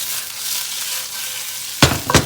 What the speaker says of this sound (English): Brown them in a little butter.